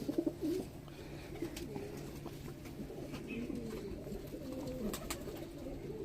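A male pigeon coos in repeated low, throaty rolling calls, close and fairly clear over a steady background hum, with no one talking.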